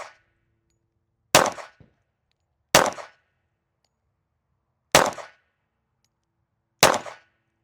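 .45 pistol rounds from a Springfield XD45 strike steel targets, four sharp, loud cracks with ringing decay, spaced one to two seconds apart with silence between them.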